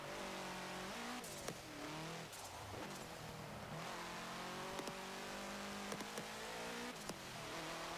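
A 1967 Volkswagen Type 3 1600 L engine in Forza Motorsport 7 drones and revs through gear changes, a steady mid-pitched buzz rising and dropping with short shift blips, no talking.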